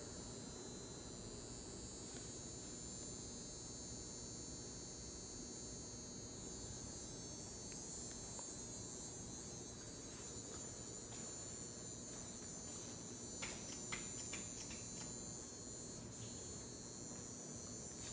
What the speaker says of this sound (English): It's a broken elevator here.